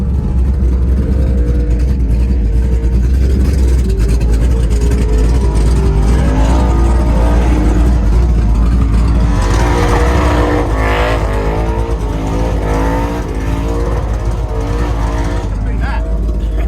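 High-horsepower skid cars doing burnouts at Mallala roar loud and continuous from close up, the engines straining and revving without a break, while voices talk over the din.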